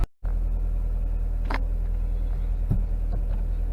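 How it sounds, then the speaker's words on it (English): 1999 Honda Prelude idling as it sets off for a drive: a steady low engine rumble from inside the car, close and even, with a few light clicks and knocks. "All right, let's take it for a drive."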